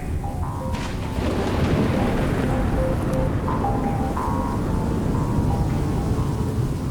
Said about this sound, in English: A late summer thunderstorm builds up over the land of butterflies.